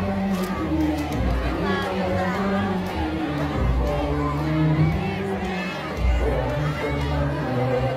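A large crowd of women and young people shouts and chants at a street gathering in Jakarta, a dense, continuous roar of many voices with surging peaks throughout.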